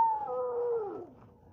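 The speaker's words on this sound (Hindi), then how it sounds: "ये जो डॉग जो है ना, ये भौंक रहा है ना" A dog gives a single long, wavering howl that slides downward in pitch and fades out, fairly close and clear with no talking over it.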